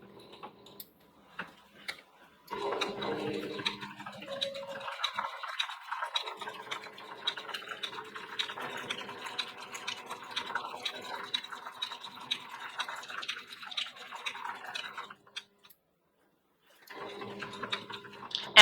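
A sewing machine stitches raw edge applique around a curve, a fast steady whirring rattle running close and continuous for most of the stretch, with short pauses near the start and end.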